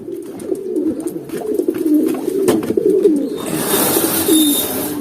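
A racing pigeon back at its home loft coos several times, close and clear, with steady low bird murmuring behind and a burst of hissy rustle near the end.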